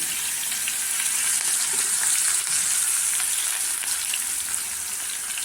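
Green chili, garlic and onion fry in hot oil in a pan with a steady, dense sizzle that stays loud and close, without any break for the whole stretch.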